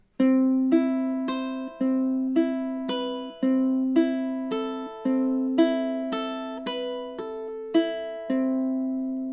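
Ukulele fingerpicked etude passage with plucked notes over a sustained chord, an evenly paced picking pattern that repeats in phrases, clear and close with no voices.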